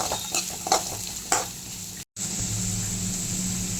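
Chopped onions and garlic fry in a pan for an egg omelette gravy, opening with a few sharp spatula stirs against the pan, then settling into a steady close sizzle after a momentary cut.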